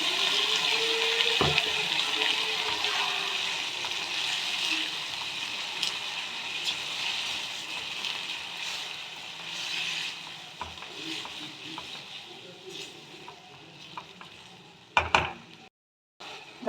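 Spice paste hitting fried raw pumpkin in a hot pan gives a steady, moderately loud hiss and sizzle that fades gradually, with a few clanks and stirring noises near the end.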